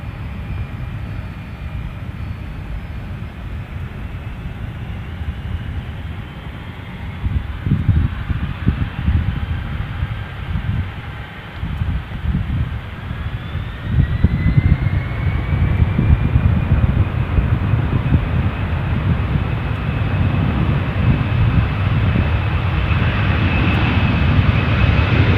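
A DHL freighter aircraft taking off at Edinburgh Airport, its engine roar building from a steady distant rumble into a loud, wind-buffeted thunder with a rising whine as it accelerates down the runway.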